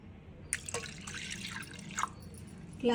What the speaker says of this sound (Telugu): ఇప్పుడు ఇందులో నేను వాటర్ వేస్తున్నాను